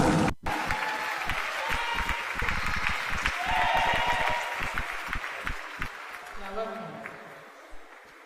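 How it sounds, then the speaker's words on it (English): An audience at a university opening ceremony gives a round of applause that rises and fades over several seconds, with voices and some talk mixed in. "A big round of applause for Futa."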